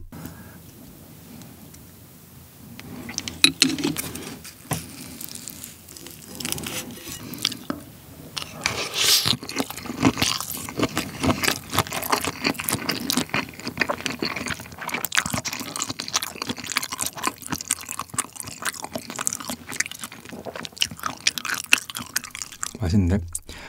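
Large soy sauce marinated shrimp chewed close to the mic, with continuous wet squishing, crunching bites and smacking over twenty seconds, starting after a quiet moment.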